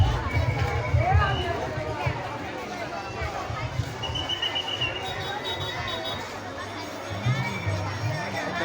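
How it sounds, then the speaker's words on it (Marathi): A busy crowd at a temple site in Armori near the ticket queue, with a steady hubbub of many voices, shuffling footsteps and people talking close by throughout. "इकडं पण मस्त गर्दी आहे"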